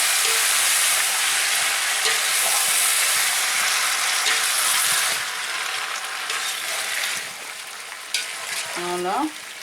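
Potatoes being stirred into a hot pan of cooking juices for a Liège-style salad give a loud, steady sizzle with scraping stir strokes throughout, thinning slightly toward the end.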